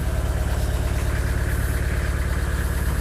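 A Fiat Ducato 1.9 diesel with tuned injectors and fuel pump idles close by, a loud, even, low throb with a steady rhythm and no voices.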